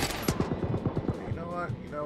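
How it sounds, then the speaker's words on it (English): Rapid automatic gunfire in the video game Far Cry 5, a fast burst of sharp shots followed by scattered pops, with a voice talking over it. "Stop shooting!"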